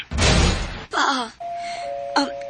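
A loud burst of noise gives way to a two-tone electronic ding-dong chime, followed by a sustained tone and another short chime.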